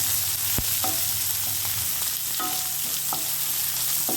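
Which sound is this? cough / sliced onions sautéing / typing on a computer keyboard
sliced onions sautéing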